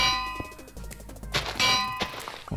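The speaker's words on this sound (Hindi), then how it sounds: "आप इसे प्लेस करते हैं तो देखिए बेल की आवाज़ आती है" Bell placed in the video game Minecraft, giving a series of bright metallic clangs and dings, several ringing strikes that decay over a couple of seconds, clear and close with no voice.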